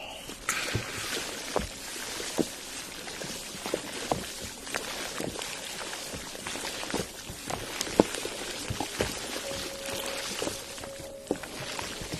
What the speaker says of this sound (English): let's listen to the raindrops